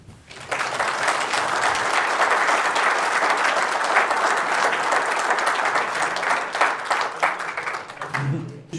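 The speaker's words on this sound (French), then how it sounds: "Je vais vous demander d'applaudir les juges" A discus fish show audience in France claps for the judges, steady dense applause holding for several seconds before tapering off, with a voice briefly audible at the end.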